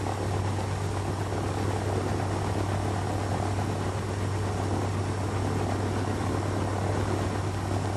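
Four-engine B-24 bomber from 1943 running its engines during pre-flight warm-up, a steady loud drone with a strong low hum that holds evenly throughout, no talk over it.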